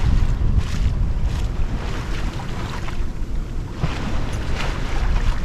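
A sailboat under sail with its genoa set rolls through a swell, giving a steady, loud rush of wind and water over the hull that goes on without a break and with no voices.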